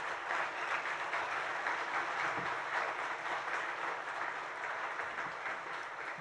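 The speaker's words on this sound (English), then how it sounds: "Please join me in a round of applause to the Ludlow High School Chorus and the Scouts." Applause at a Veterans Day ceremony in Ludlow for a high school chorus and scouts, a steady, dense wash of clapping from a large crowd heard from a distance, sustained throughout without talk.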